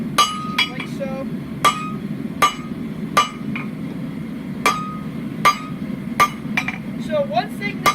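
Hand forging a leaf from hot steel on an anvil, sharp ringing hammer blows in a steady uneven rhythm, about a dozen strikes with lighter bouncing taps between them over a low background hum, with someone talking.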